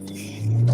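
A Jeep Patriot's loud exhaust swells into a deep rev, rising abruptly halfway through and holding a low, booming rumble close by.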